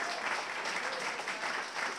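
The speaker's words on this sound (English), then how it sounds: "Who agrees tonight was phenomenal? Clap it up." Audience clapping at a Startup Grind gathering in Tallahassee, a soft even wash of many hands that stays steady for about two seconds, quiet and somewhat distant, with no speech on top.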